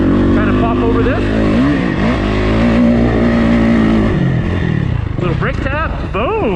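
Loud dirt bike engine revving up through gears as the rider approaches a jump, a close, strained whine that rises and falls with pitch sweeps near the end, with a voice speaking over it.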